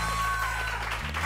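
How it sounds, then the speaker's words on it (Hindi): Studio audience applause rises on a Pakistani morning show set, a dense patter of clapping heard briefly over a low hum. "बहुत बहुत बहुत बहुत सारी तालियां किरण के लिए"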